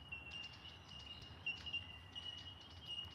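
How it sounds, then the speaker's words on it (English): Birds, including mynas and starlings, calling outdoors in Australia: faint, thin chirps and a sustained high whistling note over low background noise, with no voices. "there's a lot of birds here, mate"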